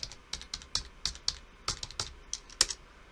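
Rapid, irregular keystrokes on a computer keyboard while entering Python list data, clicks close and crisp with uneven spacing and a few louder key hits.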